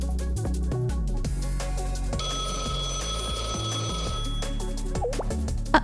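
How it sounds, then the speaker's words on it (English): A phone rings in the video game Blue Archive, a steady electronic ringtone repeating its bright warbling pattern for several seconds, loud and alone with no talk over it. "A phone call? Now?"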